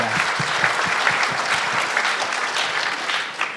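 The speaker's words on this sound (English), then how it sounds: "If we can just give a round of applause for that." An audience at a citrus industry summit panel discussion claps in a dense, sustained round of applause that stays loud and even throughout.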